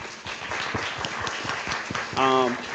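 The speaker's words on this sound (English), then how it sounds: "So let's just one more time give them a hand clap." An audience at a Boss Up motivational event gives a round of hand claps, a patter of fairly close claps throughout, with a voice rising over them at the end.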